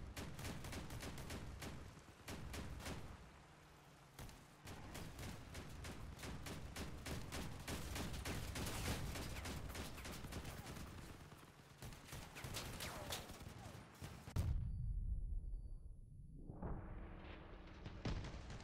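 Sustained rapid gunfire from vehicle weapons in the combat game Crossout, dense overlapping bursts that run steadily for about fourteen seconds, then cut out abruptly, leaving a low engine-like rumble that swells again.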